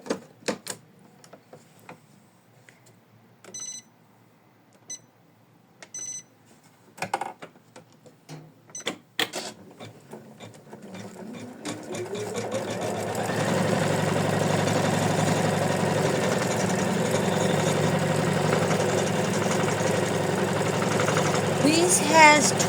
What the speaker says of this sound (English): now we need to stitch another placement line